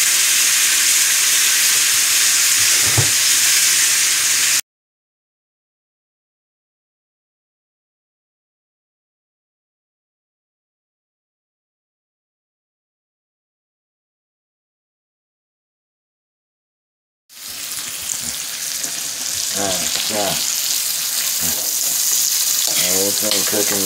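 A ribeye steak fries in butter in a pan with a loud, close, steady sizzle and hiss, broken by a long stretch of complete silence midway before the crackling sizzle returns.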